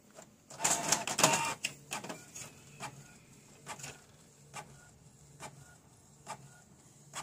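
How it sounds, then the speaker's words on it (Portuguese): An Epson G3160 inkjet printer runs a test page, giving mechanical whirs and clicks with a louder burst of feed noise early on, then intermittent short ticks and motor pulses at close range. "Vai imprimir uma folha de teste, ó."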